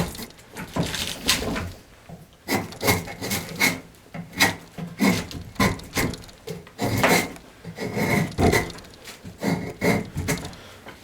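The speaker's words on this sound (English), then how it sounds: "So I thought maybe I would go ahead and get this debarked and cleaned up" Debarking and cleaning up a piece of wood before turning it on a lathe: close, loud, steady rasping and scraping strokes in fast irregular bursts with brief pauses, no talk.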